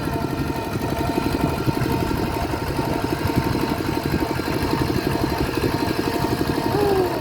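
A small single-cylinder walking tractor engine chugs steadily and loudly at close range, a rapid even putter that holds without pause throughout.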